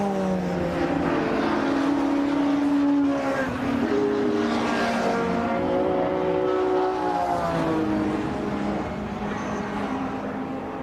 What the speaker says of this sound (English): A couple of cars into the pits now as well.